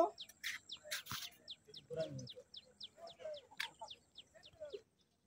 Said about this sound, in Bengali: ওই যে পাখি